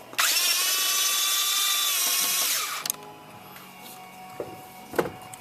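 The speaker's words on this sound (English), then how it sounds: "there is two 8mm head bolts on either side of it, which we'll remove" A power tool whines steadily for a few seconds while backing out the 8mm head bolts on a Ford Powerstroke diesel EGR valve, then stops. A few light metallic clicks and taps follow close by.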